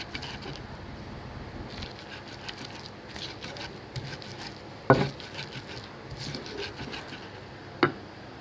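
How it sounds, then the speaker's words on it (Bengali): Garlic and chillies are ground by hand in a home kitchen, producing soft repeated scraping and pattering strokes with two sharper knocks, close and moderately quiet. "রসুন আর মরিচ এভাবে বাটতে হবে ভালোভাবে"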